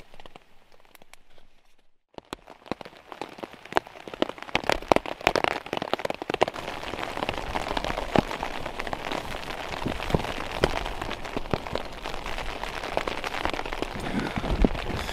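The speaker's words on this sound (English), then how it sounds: "Still raining." Rain patters steadily on a camping tarp, starting quietly then building into dense, crackling drops that continue without letup.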